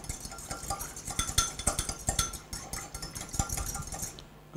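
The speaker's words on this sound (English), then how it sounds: "Okay, give a good stir." A spoon stirs a lemon juice and vinegar mixture in a bowl, giving quick, light clinks and scrapes in a busy uneven rhythm, close and fairly quiet.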